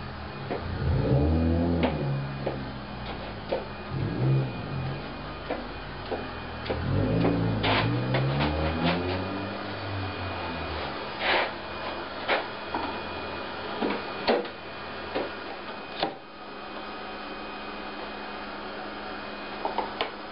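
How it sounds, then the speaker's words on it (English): Scrap-built, robot-controlled routing machine cutting a radius into a guitar fretboard, a steady mechanical whine with rising and falling motor tones, then a run of sharp clicks and knocks over a constant hum, with no talking. "this is going to be the world's first Cylon guitar routing machine."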